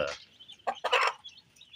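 A free-range country hen, a mother hen, gives a few short, sharp clucks, close by and fairly quiet, with brief pauses between them.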